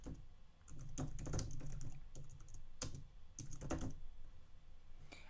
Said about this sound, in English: I'm gonna go ahead and type in consulting time